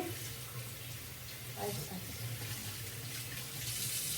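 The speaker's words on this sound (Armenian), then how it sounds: "ու այս ցողունները մի հատ լվանում եմ ծաղկի" Flower stems rinsed under a running tap, a steady close stream of water spattering in a sink for several seconds with slight shifts as the stems move through it.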